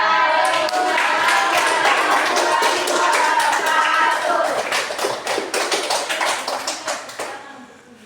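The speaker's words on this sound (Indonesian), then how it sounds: "Tepuk tangan." An audience claps after a student group's classroom presentation in a teacher-training class. The sound is dense, steady applause that thins into scattered individual claps and fades out near the end.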